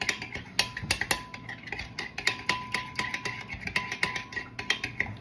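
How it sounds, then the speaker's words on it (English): A spoon stirs peanut dipping sauce in a kitchen pot, giving steady, irregular clinks and scrapes against the metal with a faint background hum, no voices. "Okay, I'm gonna keep stirring."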